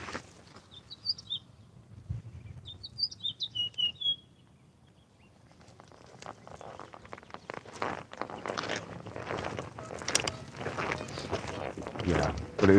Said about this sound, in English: Oh, I hear Tweety Bird.